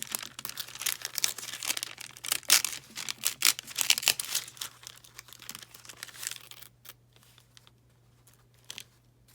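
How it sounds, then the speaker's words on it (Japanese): Release paper is folded back and torn sideways while making a matte laminate zipper pouch: close crinkling and ripping for several seconds, then fading to quiet. "キングペーパーは折り返して蓋をつけて横に破ります。"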